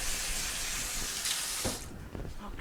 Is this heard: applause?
no